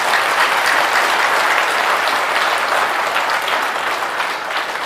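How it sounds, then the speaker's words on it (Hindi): Audience at a spiritual discourse gathering breaking into sustained applause, loud, dense and even clapping from a large crowd that holds steady for several seconds. "यदि आनंद आ रहा है ताली तो बजा दीजिए।"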